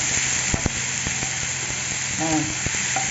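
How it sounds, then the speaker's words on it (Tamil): Tomatoes cooking in a pan for chicken fry give a steady, close sizzle and hiss, with a few light clicks of stirring over the whole stretch. "இப்போ தக்காளி கொஞ்சம் வேகட்டும்."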